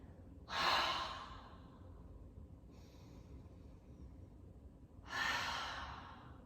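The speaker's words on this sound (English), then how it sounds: "That forceful exhale helps us tighten the abdominal muscles." Two forceful, breathy exhales during a core workout, each a sharp burst that trails off, separated by a quieter breath, all close and clear against low room noise.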